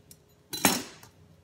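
A knife slices through a lime at the end of the fruit on a cutting board, one brief, close knock and crunch standing alone against a quiet kitchen.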